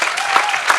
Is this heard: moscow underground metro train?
no